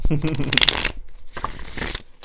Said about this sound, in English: These cards have just been shuffling so beautifully.